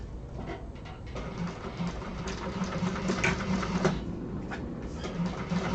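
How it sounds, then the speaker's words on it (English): A sewing machine top stitches through a side panel of a fabric bag, its stitching chatter steady and moderately close, with a mechanical whir running throughout and no talking. "we are going to top stitch through that side panel to keep that in place"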